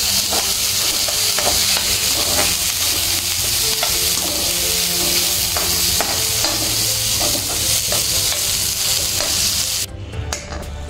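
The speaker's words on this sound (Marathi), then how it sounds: "वाटाणा हे व्यवस्थित परतवून घेऊया" Peas and chopped bell pepper sautéed in a pan crackle and sizzle loudly and continuously, with repeated scraping strokes of stirring, easing off briefly near the end.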